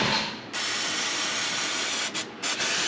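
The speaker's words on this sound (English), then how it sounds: "Just give it a good brake cleaning." Aerosol brake cleaner sprays in a sustained loud hiss during brake fluid service work, with two short breaks near the end before the spray resumes.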